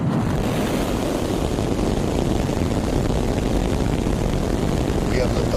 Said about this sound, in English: That's the sound of SpaceX's Super Heavy booster roaring to life.